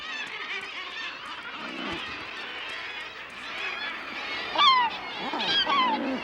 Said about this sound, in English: At the top of the cliff, glaucous gull chicks are hungry too.